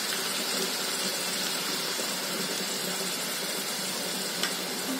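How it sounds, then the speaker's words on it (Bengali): Ginger garlic paste frying in a pan for a Bengali mutton curry, a steady, even sizzle that continues for several seconds with one small pop near the end. "এই পেস্টটাকে ভাজা ভাজা করতে করতে আমি এর মধ্যে দেব আদা রসুন বাটা"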